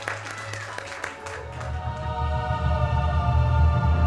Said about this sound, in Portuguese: Um aplauso para a energia solar!